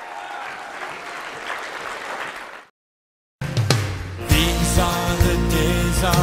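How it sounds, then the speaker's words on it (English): A church congregation claps and cheers steadily for a few seconds, then a short silence before loud music starts. "Let's give the Lord a hand clap of praise."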